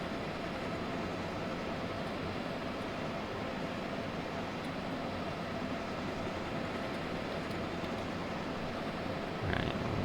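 Continuous rumble of a train running in Train Simulator 2022, with steady rail noise and faint creaking, ending in a brief louder burst.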